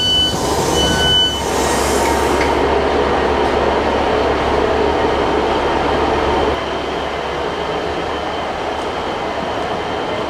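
A passenger train in Cardiff, Wales, runs with a loud continuous rumble and low hum, a brief high squeal early on, then the roar eases slightly toward the end.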